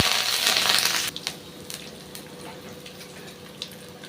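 Mustard seeds, urad dal, chana dal, cumin, asafoetida and curry leaves hit hot oil for tempering with a loud hissing sizzle, which quickly fades into sparse pops and crackles.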